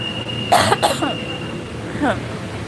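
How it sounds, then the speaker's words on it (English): Short coughs from someone eating spicy laksa at a restaurant: a quick burst of two coughs, then a softer single cough a moment later, close and loud. "it's spicy. So I coughed a little."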